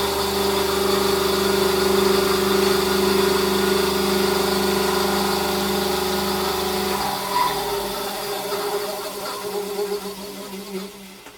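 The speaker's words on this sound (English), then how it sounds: "So I'm going to connect the bandsaw to power" An Ozito BSW-2581U bench top bandsaw, 200mm, on 220-240 volt power, runs with a steady motor hum and whirr, loud and close. The tone shifts partway through as the motor changes pitch, then keeps running more unevenly.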